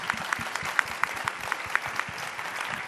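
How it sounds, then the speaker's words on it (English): An audience at a women's healthcare innovation panel event applauds steadily, with dense, even clapping throughout and no talking. "A round of applause, please."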